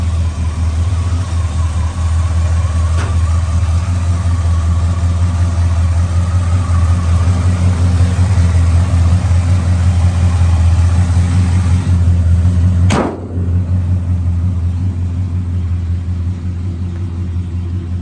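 A 1972 Chevrolet C10 pickup's 350 V8 idles with a deep, steady rumble for a long stretch, then gives one brief rev before settling back to idle.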